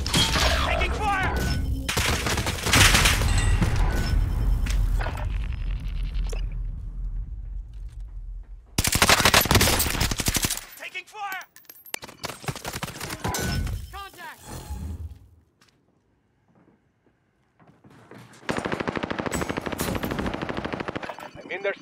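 Bursts of automatic gunfire and single shots in Call of Duty Warzone Plunder, loud and repeated in clusters with quieter gaps between exchanges.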